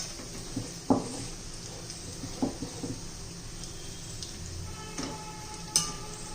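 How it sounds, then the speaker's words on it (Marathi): Dry coconut sizzles gently in hot oil in a pan, with a few sharp scrapes and taps of a spoon stirring it. "ते पण चांगलं तेलामध्ये भाजून घ्यायचं आहे"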